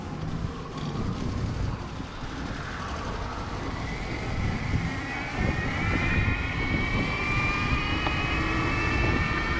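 A Bafang Ultra mid-drive e-bike motor, tuned with field weakening, accelerates hard, its rising whine climbing in pitch over steady road and wind rumble, continuous and fairly close.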